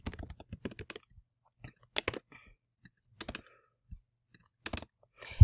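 Computer keys tap in short, irregular bursts while a question and answer choices are entered, close and crisp, with quiet gaps between the clusters of keystrokes.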